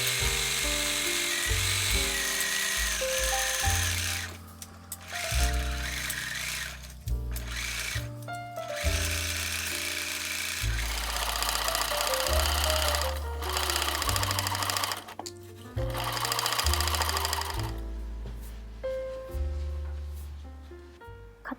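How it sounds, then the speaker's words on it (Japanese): A sewing machine stitches the back side seam of a bodice, giving a loud, close, continuous mechanical whirring in long runs that speed up and slow down, broken by brief pauses between bursts. "後ろ身ごろに後ろ脇を縫おう。"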